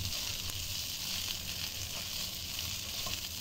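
Fish and cooking wine sizzle hard in a hot stir-fry pan, a steady loud frying hiss throughout with no pauses.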